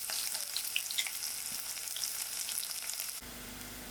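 Onions fry in a pan, a steady close sizzle with bright crackles and pops that suddenly drops to a quieter hiss near the end.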